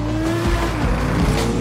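A car chasing a motorbike in a film race scene, a loud, steady engine roar with tire squeal and skidding, close and continuous.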